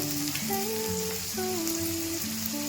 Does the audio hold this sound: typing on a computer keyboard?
no